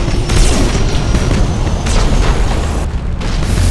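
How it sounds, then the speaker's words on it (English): Macro cannons fire in the space strategy game Battlefleet Gothic Armada, a dense run of heavy, rumbling booms layered into a continuous loud barrage with a brief dip near the end. "Come on, macro cannons, fire."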